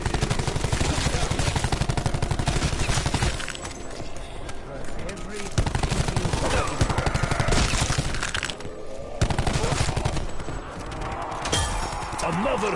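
Gunfire in Call of Duty Black Ops 4 zombies map Blood of the Dead, dense rapid automatic shooting with sharp cracks and breaking impacts, loud and nearly continuous with brief lulls, people talking over it.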